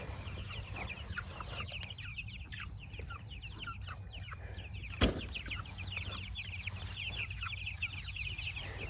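Several pastured chickens clucking and chirping continuously nearby in a chicken tractor, with a single sharp knock partway through and a low steady hum underneath.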